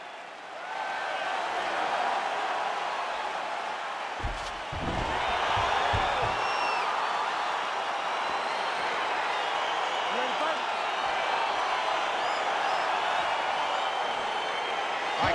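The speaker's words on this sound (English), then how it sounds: "crowd getting excited as this fight gets underway" Arena crowd noise from the UFC 4 video game swells into a steady, loud roar of cheering as a fight begins, broken by a few dull thuds early on and continuing unbroken to the end.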